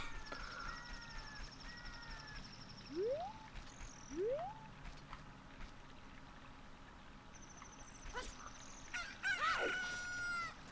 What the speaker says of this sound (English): Is that my chicken?